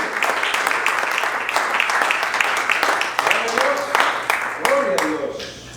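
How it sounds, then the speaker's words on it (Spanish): A church congregation claps through a steady run of sharp, loud handclaps, and voices rise near the end. "Aplaude al Señor, gloria a Dios."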